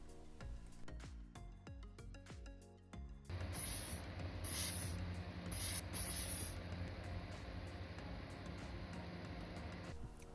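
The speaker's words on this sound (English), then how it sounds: "I'll be using some Halford's clear lacquer spray paint" Halfords clear lacquer aerosol hisses in a steady spray over a die-cast Matchbox model, beginning after a few quiet seconds and cutting off near the end, with a few louder bursts.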